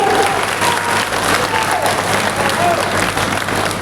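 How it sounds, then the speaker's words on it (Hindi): A crowd at a political rally in Chambal claps steadily and densely for the whole stretch, a loud, continuous wash of hands with voices and shouts mixed in. "लगाओ चंबल की ताली"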